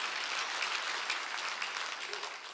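A church congregation claps hands together in a dense, sustained burst of applause, steady and fairly loud throughout with no voices standing out.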